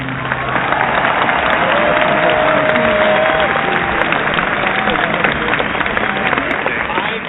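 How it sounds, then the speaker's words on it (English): Loud, steady applause from a large crowd, dense clapping that fills the whole stretch without letting up. "let's get an applause in here for Pete's sake"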